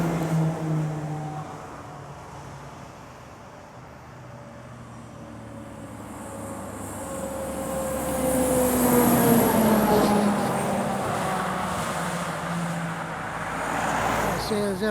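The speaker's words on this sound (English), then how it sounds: "Couple of timber trucks now." Timber trucks pass on the A75 road, their engine rumble and tyre roar swelling as they approach and then fading away, with steady traffic noise underneath.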